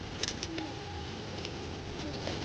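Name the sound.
pigeons cooing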